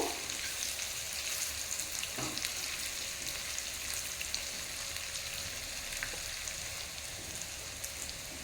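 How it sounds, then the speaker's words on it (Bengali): Paneer cubes frying in oil on a high flame give a steady, continuous sizzle with faint crackles throughout, close and even in level, with no talking. "আরও মিনিট দুই তিনেক হাই ফ্লেমেই একটু ভেজে নেব"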